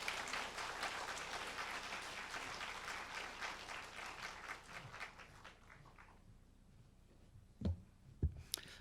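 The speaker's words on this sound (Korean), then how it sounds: "여러분 뜨거운 박수로 환영해 주시기" An audience applauds warmly to welcome a pastor introduced at a church event. The dense clapping gradually thins and fades, followed by a few isolated thumps.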